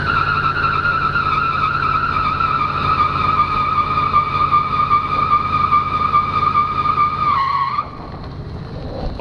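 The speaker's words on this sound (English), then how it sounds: "will it do a burnout?" A car doing a weak tire burnout with a loud, steady engine roar and high tire squeal running for about eight seconds, then cutting off abruptly to a quieter rumble.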